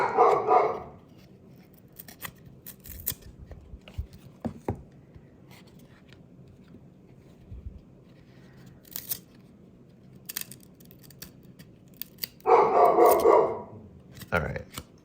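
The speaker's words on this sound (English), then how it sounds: "I'm gonna have to go tell those dogs to stop it." Dogs bark in two short bursts, one at the start and one near the end, moderately close. Quiet ticks and rustles fill the stretch between.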